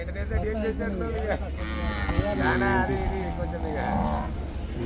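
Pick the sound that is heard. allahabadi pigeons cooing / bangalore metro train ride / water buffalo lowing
water buffalo lowing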